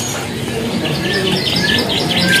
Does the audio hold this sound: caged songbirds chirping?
yes